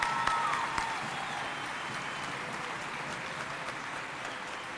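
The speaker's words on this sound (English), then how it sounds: "Let's give all of our families a big round of applause for their continued support." Sustained applause from families fills a school event, a dense, even patter of many hands clapping from start to finish with no break.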